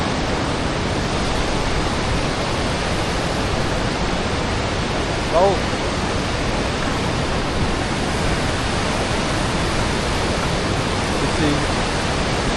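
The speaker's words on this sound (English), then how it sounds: "Absolutely everywhere I turn, I see waterfalls" A Croatian waterfall roars as a loud, continuous rushing wash of falling water, with a person briefly speaking over it.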